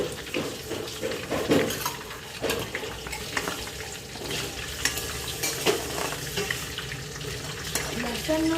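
Dried red chillies, black peppercorns, cloves and ginger pieces frying in oil in a pan, a steady sizzle broken by clinks and scrapes of a spoon against metal, with faint talk in the background.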